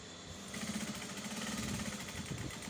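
A sewing machine stitches round a beret cap with a 1/4-inch seam allowance, running with a fast, even mechanical rattle that is quiet but steady after a short pause at the start.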